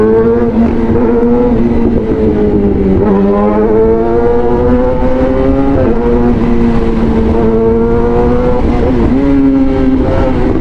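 A Yamaha R6 sport motorcycle engine revving steadily and loudly up close, its pitch rising and dipping in repeated swells across the whole span with no talk.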